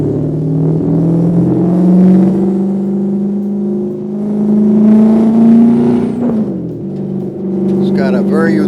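A Corvette ZR-1 engine drones steadily and close while driving, its pitch slowly rising and falling with throttle, then dropping sharply before picking back up, with some speech faintly underneath.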